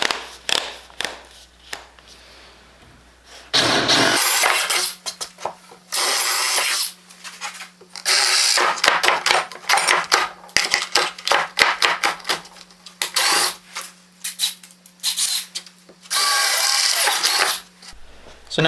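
A drill bores pilot holes into the base of a router sled in a workshop, in several loud whirring bursts separated by quieter clicks and handling noises.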